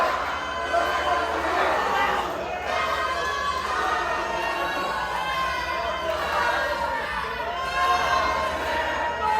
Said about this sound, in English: this whole crowd here at Trippin' Animals Brewery, they're letting Elliott Qrow know what they think of him.